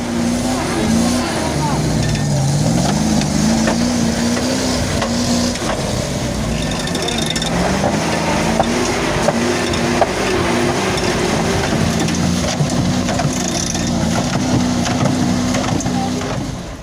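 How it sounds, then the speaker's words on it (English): A CMZ 53 truck engine revs hard and steadily, its droning pitch rising and wavering close by over about seventeen seconds, loud and continuous with no pauses. "that CMZ 53 engine revs up fast"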